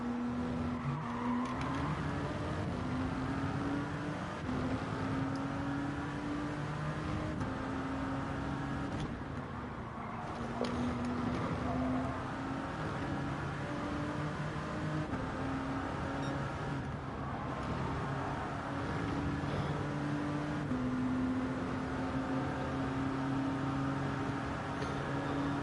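Peugeot Gr.1 race car engine in Gran Turismo 7 at Le Mans qualifying, a continuous loud whining roar climbing in pitch through repeated gear shifts, with small dips between gears and no speech.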